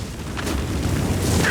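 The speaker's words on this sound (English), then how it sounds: "Fire breath." A fire breath attack in the Avatar: Quest for Balance video game lets out a loud, sustained roaring whoosh that swells slightly over its short burst.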